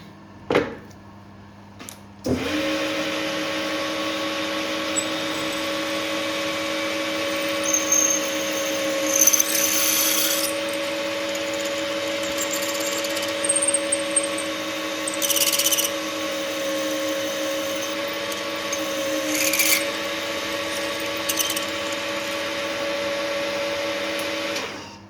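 A drill press drives a 7.5mm bit all the way through a homemade piston, a steady loud motor whine with a bright cutting hiss that rises in bursts as the bit bites, after a sharp start-up clunk.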